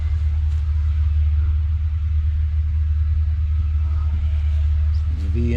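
A vintage Minneapolis-Moline tractor's V engine idles at a farming show, giving a steady, loud low rumble that runs unbroken throughout at close range.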